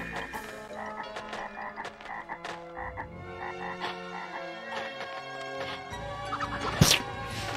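Croaking frog sounds from the GameCube video game Castleween, several repeated croaks mixed with other tonal game effects and music, fairly loud and without speech.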